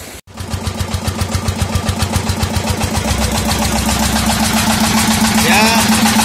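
A diesel engine drives a water pump irrigating a corn field, idling close by with a steady low chugging pulse that grows slightly louder, while a person talks over it.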